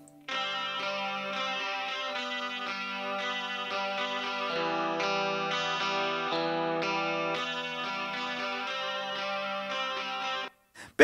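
Sustained keyboard chords pass through the Caelum Audio Tape Cassette 2 plugin's warm, gritty tape-style saturation effect, shifting harmonies over several seconds before cutting off abruptly.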